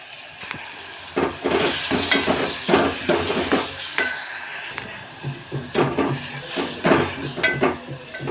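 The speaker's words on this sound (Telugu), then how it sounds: "పచ్చిమిర్చి పేస్ట్ వేసి ఇలా కలపాలి." A spoon stirs green chili paste into a sizzling tomato and potato curry for poori aloo, with continuous scraping and frying crackle from a nearby pan and no talking.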